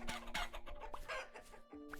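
Chickens cluck in the Vintage Story video game, several short bursts and rising calls overlapping at close range, with a few steady tonal game sounds underneath and no talk.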